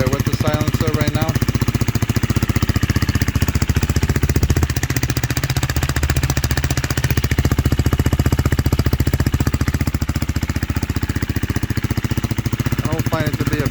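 A Husqvarna Svartpilen motorcycle, sharing its engine with the KTM Duke 390, idling on first start-up with an inexpensive aftermarket exhaust fitted with its silencer insert, a loud, close, steady rapid thumping putter with brief rises in pitch.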